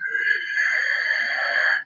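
A voice makes a continuous, strained mechanical hum lasting nearly two seconds, imitating a freight elevator's exterior door grinding along.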